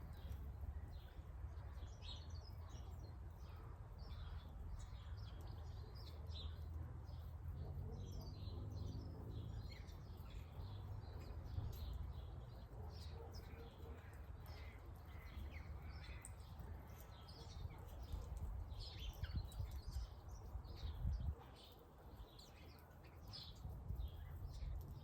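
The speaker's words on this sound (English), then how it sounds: "That's all the birds. So beautiful" Birds chirp and call steadily over a constant low outdoor rumble, with many small tweets scattered throughout and occasional harsher crow-like caws, all at a moderate distance and with no talking.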